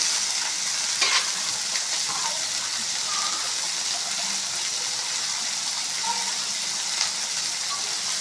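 Food fries in a pan with a steady, loud sizzle while it is stirred. Occasional scrapes rise over the hiss, and it carries on without a break.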